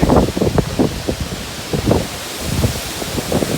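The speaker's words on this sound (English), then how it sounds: "There's some wind going." Wind gusts buffeting a Charleston, South Carolina location during Hurricane Dorian, roaring across the microphone in repeated bursts with rushing, rustling noise between them, loud and close throughout.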